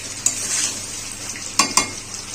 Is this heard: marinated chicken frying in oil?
yes